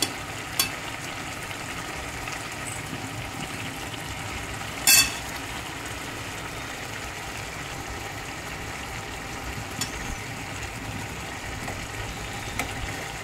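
Five eggs fry in a pan with a steady, fairly quiet sizzle that runs evenly throughout, broken by a few small pops and clicks.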